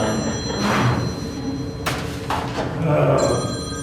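A newly bought phone rings during a school board meeting, its electronic ringtone pulsing in bursts over a roomy hall, with people talking and a few thumps and shuffles nearby.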